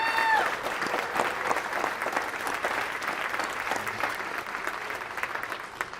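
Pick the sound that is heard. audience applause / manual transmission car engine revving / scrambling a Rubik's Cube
audience applause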